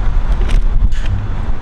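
Outdoor wind buffets the microphone in a short, steady low rumble with gusty swells, no voices heard.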